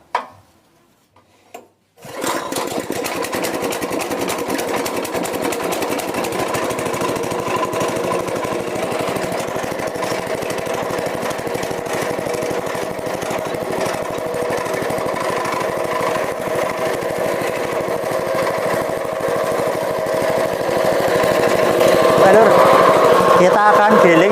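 A grass-chopping machine's engine for making silage starts after a brief quiet moment, then runs with a steady, loud, rasping roar that grows slightly louder toward the end.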